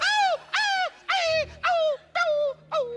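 A human voice imitates a dog yelping during a comedy bit: six short, high, whining yelps, each sliding downward in pitch, in a quick, fairly even rhythm, close and loud with no talk over them.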